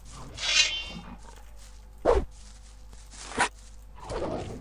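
A dog in the video game Gothic gives a few short, separate barks or growls at irregular intervals, fairly close, with quiet background between them.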